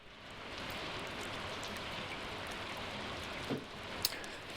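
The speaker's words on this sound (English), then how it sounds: "It's a rainy day in Stardew Valley today." Steady soft rain in the farming game Stardew Valley, a continuous gentle hiss of falling drops throughout, with a couple of brief louder ticks near the end and no talking.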